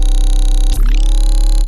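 A lead bass synth patch in Vital, with oscillator 3 set to a formant wave morph, drones loud and buzzy, dips briefly near the middle with a swooping vowel-like sweep, then settles back into a steady sustained tone, with no talking.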